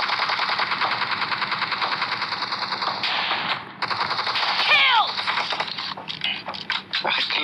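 Shotgun and automatic gunfire in a PUBG Mobile team deathmatch, with rapid repeated bursts of shots and short gaps, heard at moderate level under in-game effects and voice chat.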